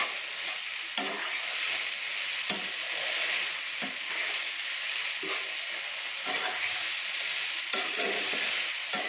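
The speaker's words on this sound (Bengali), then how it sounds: "এইভাবে আমি মশলার সঙ্গে আমি কষিয়ে নিচ্ছি।" Spices sauté over a low gas flame in a pan for a vegetarian Malabar spinach dish, a continuous bright sizzle broken by regular scraping stirs, close and fairly loud with no talking.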